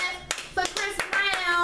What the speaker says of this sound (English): Let's give a clap for Chris Brown